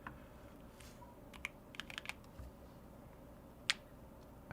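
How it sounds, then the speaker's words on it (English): Light typing on a computer keyboard at a desk, scattered soft clicks with a few sharper keystrokes, quiet and close, no voices. "Why am I typing to it, man?"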